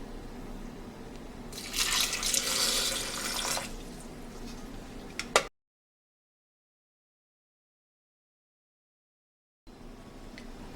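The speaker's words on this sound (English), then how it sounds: "I'm going to add water." Water poured into a blender jar with pepper and onion for seafood okra soup, a close splashing and trickling pour lasting a few seconds, then silence before a quieter tail.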